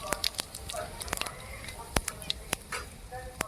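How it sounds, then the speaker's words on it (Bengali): Whole cumin seeds sizzle and pop in hot oil for tempering, a soft steady hiss broken by sharp, irregular crackles close to the pan. "ফোড়নে দেব গোটা জিরে"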